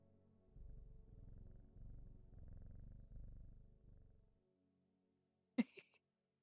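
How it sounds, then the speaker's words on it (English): A cat purrs steadily in low, continuous rumbling pulses for about four seconds, then stops, followed by a brief sharp knock or clatter near the end in an otherwise quiet room. "and the cat purr"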